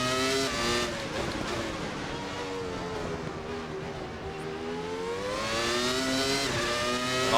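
A Williams FW19 Formula 1 car engine howls at full throttle in a racing video game, loud and steady with rising and falling harmonic pitch sweeps through gear changes, alone with no talk.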